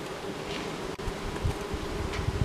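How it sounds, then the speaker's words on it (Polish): Close, continuous buzzing of many honey bees around a hive, a steady droning hum with faint rustles and a few louder passes near the microphone. "No pszczoł jest dużo"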